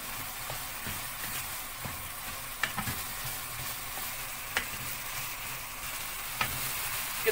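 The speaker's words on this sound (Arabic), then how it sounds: "الحاجات دي كلها انزل بيها على اللحمه واقلب" Ground meat sizzles in a pan with spices and chicken stock powder, and a spoon stirs it with light, intermittent scraping clicks. The frying hiss is steady, fairly quiet and close, with no voices.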